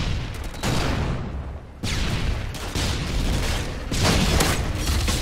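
A frag grenade explodes in Call of Duty: Modern Warfare 2, a loud booming blast with rolling debris noise, followed by further heavy explosions and gunfire in a busy, continuous game battle.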